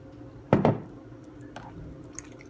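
Sauce poured from a bottle onto raw chicken pieces for teriyaki, a short wet glugging splash up close, then quiet kitchen background with faint small drips.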